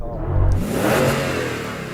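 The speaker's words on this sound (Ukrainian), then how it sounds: "давайте швиденько перевіримо звук наших двигунів" A Toyota Land Cruiser SUV engine revs hard once, a loud rising roar that holds and then settles into a throaty drone, close by with no voices.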